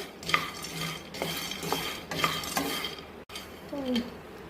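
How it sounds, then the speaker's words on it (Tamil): A spoon scrapes and stirs roasted gram (pottukadalai) in a hot pan, making repeated close rasping strokes with light clinks. No one speaks. "இந்த மாதிரி வதக்கினாதான் கிறிஸ்பியாக இருக்கும்"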